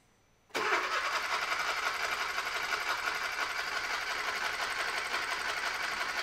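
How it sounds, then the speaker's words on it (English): A 2013 Kia Soul 1.6 GDi running rich, with freshly cleaned spark plugs, cranks after a brief silence, giving a steady, dense, whirring churn that holds at an even level throughout, close to the microphone. "So you want to crank it out, Lionel, let's see what our pressure's got to, and see if the thing starts."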